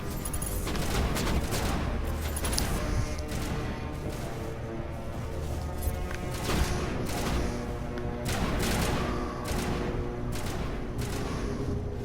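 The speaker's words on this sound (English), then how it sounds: "Who knew I'd be using a fucking sniper in Mass Effect?" Sniper rifle shots and combat in the video game Mass Effect, dense bursts of gunfire and impacts layered over game music and effects, loud and continuous throughout.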